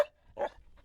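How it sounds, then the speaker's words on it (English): A dog lets out a short, close bark, with a faint yelp right after it, alone with no talk. "there's all kinds of killer dogs like these out there"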